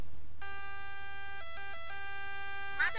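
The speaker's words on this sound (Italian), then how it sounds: "Ma adesso arriva l'ambulanza." Loud, steady electronic emergency siren on a highway where traffic is braking for an accident ahead, with stacked harmonic tones that step down and up in pitch a couple of times over a low road rumble.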